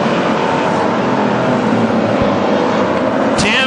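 WISSOTA street stock race cars roar past at Granite City Speedway as one overtakes another, a loud sustained engine drone filling the track with no talk heard over it.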